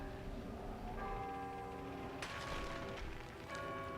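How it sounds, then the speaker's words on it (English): Bells ringing in the God of War II video game, sustained resonant tones layered with a second chime entering midway and metallic strikes, sounding faint and echoing over a low background. "Hey, we rang some bells, hooray."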